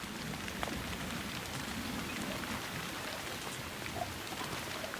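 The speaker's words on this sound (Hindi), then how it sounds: "3 महीने तक बारिश लगातार होती रहती है।" Steady monsoon rain pours down continuously, a dense even hiss of falling drops with no voices or other sounds standing out.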